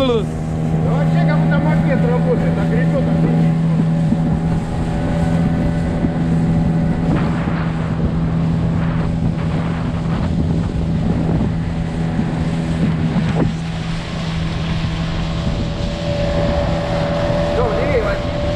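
A small boat motor drones steadily on open water of the Ivankovo Reservoir on the Volga near Konakovo, with wind buffeting the microphone and occasional voices talking over the engine.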